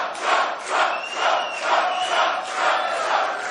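A large crowd at a Donald Trump rally in Patchogue, New York roars and cheers loudly in rising and falling waves, with chanting swells, and no one speaking over it.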